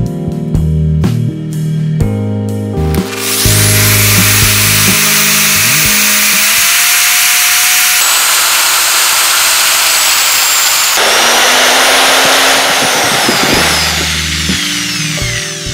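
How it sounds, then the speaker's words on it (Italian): An electric drill bores into a lock with a 4 mm cobalt bit, starting with short stuttering bursts, then a sustained high-pitched whine that shifts pitch as the bit bites into the metal, close and loud. "Anche questa volta farò un primo foro con una punta da 4 mm a cobalto."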